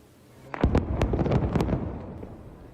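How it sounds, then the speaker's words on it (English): Simultaneous explosions levelling around 20 buildings in the Jenin refugee camp: a rapid cluster of sharp blasts and pops, heard at a distance, tumbling together over a couple of seconds before trailing off into a rumbling haze. "a series of simultaneous explosions that had leveled around 20 buildings in the Jenin refugee camp"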